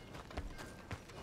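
Horse hooves clopping in Red Dead Redemption 2, a couple of soft thuds in a short, fairly quiet burst over a noisy game background.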